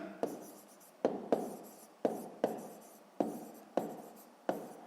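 Handwriting with a pen on paper during a sixth-grade math exercise, heard as a series of short scratchy strokes, each starting with a sharp tap and fading, close and alone without speech.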